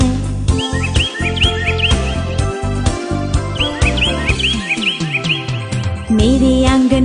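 Small bird chirps repeat in short bright bursts over a steady, loud musical backing in a Hindi children's song, the calls recurring through the passage.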